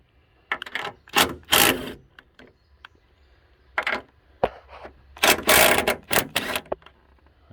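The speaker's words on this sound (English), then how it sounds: "Now we're going to go up top, take those bolts loose." Wrench clicking and turning as 13 mm strut top bolts are loosened during a Monroe Quick-Strut install, heard as several close ratchety bursts separated by pauses, with no talking.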